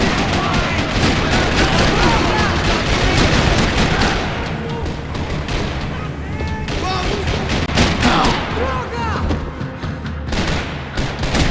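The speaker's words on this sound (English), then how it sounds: "Another parking lot rattling with gunfire." Rapid bursts of Max Payne 3 gunfire crackle continuously in a parking lot, dense volleys and sharp single shots layered over a busy, loud battle scene.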